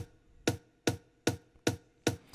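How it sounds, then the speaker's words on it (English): An amapiano drum sample of five evenly spaced, punchy percussive hits, each with a short decay, played alone. "it's kind of like a familiar Amapiano drum"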